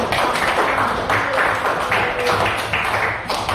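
Classroom audience clapping together after a group presentation, a steady dense wash of many hands that stays loud and even for the whole stretch with no voices over it.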